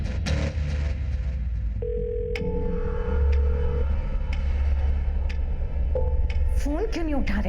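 An unanswered phone call keeps ringing: a long electronic ring tone sounds over low background rumble in a crime drama scene, with a brief voice near the end.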